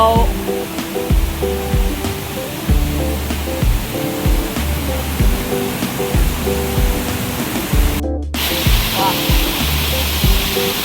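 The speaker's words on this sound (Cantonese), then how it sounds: "又嚟一個瀑布。" A waterfall on a rocky mountain stream in Hong Kong, Pak Mong stream, gives a loud, close, continuous rushing roar. Tonal sounds sit over it, and the sound cuts out briefly near the eight-second mark.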